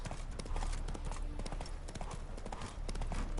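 Roach, a horse in Witcher 3, clops along with steady rhythmic hoofbeats, close and continuous, over a dense game soundscape.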